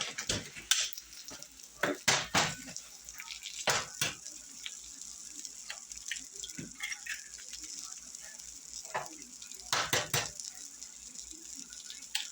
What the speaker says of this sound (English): And I'm going to whisk 3 eggs